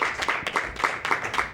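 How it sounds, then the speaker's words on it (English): Audience applause for a contestant at a playoff competition: a short burst of steady, fairly close hand clapping from a small crowd, with no talking over it. "Have a round of applause."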